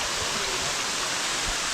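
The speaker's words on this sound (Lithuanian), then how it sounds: "Tai čia atėjom prie to pirmo krioklio." Waterfall in a Thai jungle, a steady, dense broadband rush of falling water that holds even and continuous throughout, close and moderately loud, with no talk over it.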